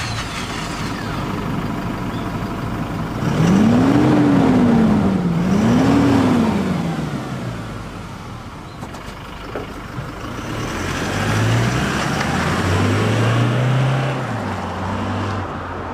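A Toyota Hilux GUN125 diesel pickup on its stock factory muffler at mid engine speed, giving a steady close exhaust drone that climbs and falls in two rev swells, then settles and builds again, with no voices.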